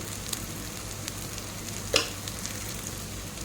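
Curry leaves and spices such as turmeric and cumin powder fry in a pan with a steady, even sizzle and one brief louder crackle midway.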